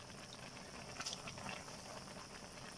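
A pot of Thai chicken rib curry (gaeng om) with liver and eggplant simmers at a low, steady bubble, soft and close, with faint sizzling and no talk.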